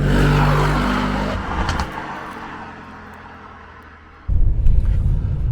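A 2021 Mercedes-Benz E63S in race mode revs loudly near the start, the engine note falls away into a quieter steady drone, then swells abruptly again into a strong rumbling pull.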